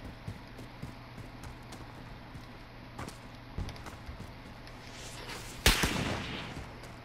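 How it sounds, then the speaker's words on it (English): Scattered gunshots in the shooter Call of Duty: Modern Warfare, several faint distant cracks spread out over the clip, then one loud, sharp close shot with a brief ringing tail near the end. "Getting sniped at."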